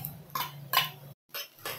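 A spoon scrapes and clatters in a pan as garlic-ginger paste is mixed into fried onions for a Maharashtrian chicken thali. The strokes come in short, close bursts with a brief silent gap.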